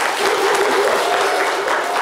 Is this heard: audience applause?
yes